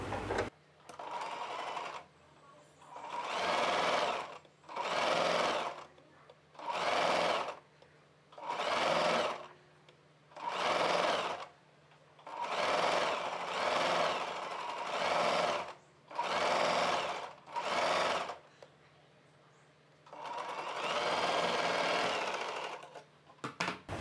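A sewing machine stitches a seam on a kids' summer frock in about a dozen separate bursts of loud, steady whirring, with short quiet pauses between them and a longer final run.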